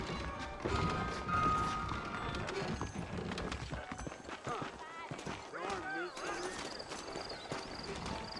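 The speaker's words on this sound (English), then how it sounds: "I got the horses saddled up and ready out front" Horse hooves clip-clopping in the video game Red Dead Redemption, an irregular run of hoof taps and thumps with a brief whinny, mixed under background game sound and voices.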